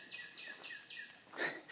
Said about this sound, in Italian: Senti gli uccellini.